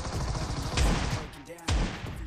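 Gunfire in the mobile battle royale game PUBG Mobile, with dense rapid bursts of shots close and loud throughout, including a Scorpion weapon, with a short gap before the firing resumes.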